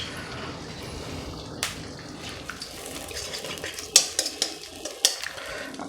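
Egg frying in hot oil in a pan while egg noodles are made: a close, soft sizzle under repeated scrapes, taps and clinks of a utensil against the pan, which grow sharper toward the end, with no voices.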